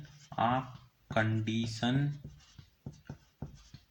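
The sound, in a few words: writing on a board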